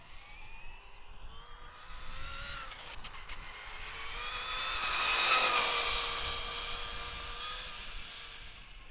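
Traxxas Slash 2WD RC car fitted with Hot Racing 32-pitch 18T/58T gears drives at speed, its electric motor whine rising and swelling to a peak around the middle before easing off, with a steady high tonal drone throughout.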